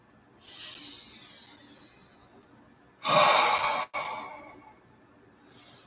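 Several slow, deep breaths close to the microphone during a meditation: a long airy inhale, a louder forceful exhale that breaks off briefly and resumes, then a soft final breath.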